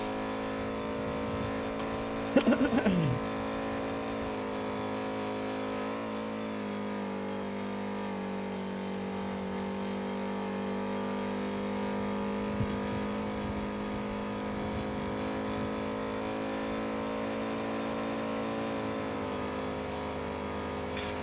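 A car engine in a driving video game hums steadily at a sustained pitch with a brief sharp rev early on, a continuous moderate drone throughout with no talk.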